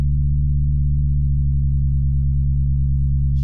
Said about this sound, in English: So if I bring in this second operator and I detune it slightly,